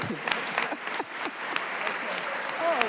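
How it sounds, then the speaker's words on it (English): Applause from an audience at a Black History Month tribute, scattered claps with distinct individual hits at a moderate level, and voices and cheers mixed in among them. "Now let's give a round of applause for everybody who has been."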